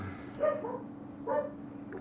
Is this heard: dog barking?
yes